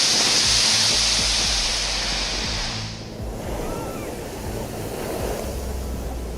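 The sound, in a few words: huge ocean waves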